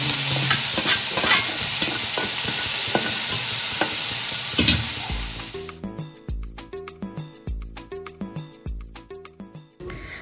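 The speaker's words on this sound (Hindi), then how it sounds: "नमक और हरी मिर्च डाल के इसको छौंक देते हैं, ज़्यादा तेल नहीं डालेंगे।" Salt and green chilies crackle and sizzle loudly in a little hot oil for tempering, with stirring scrapes for about five seconds, then rhythmic music takes over.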